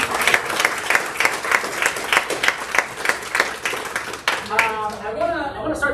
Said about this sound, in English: Let's give a huge round of applause to our leadership team